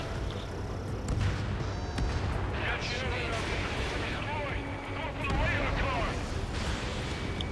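Anti-aircraft gunfire in the combat flight game Ace Combat 7, with steady rumbling bursts and booms filling the scene under continuous game noise, while excited voices talk over it.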